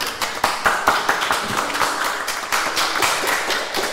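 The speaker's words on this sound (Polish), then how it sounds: "No brawa, moi drodzy." Clapping in a live poetry radio broadcast, loud and close with distinct rhythmic individual claps over a busy crowd texture throughout.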